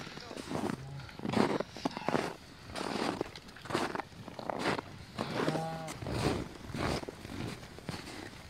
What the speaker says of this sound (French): Là on a séparé les veaux des vaches